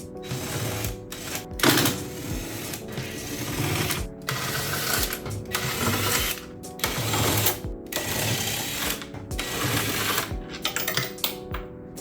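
Ratchet working on 13mm strut bar bolts in the engine bay of a BMW F8X M4 with S55 engine, giving steady rapid mechanical clicking and whirring in repeated bursts with short pauses, close and fairly loud.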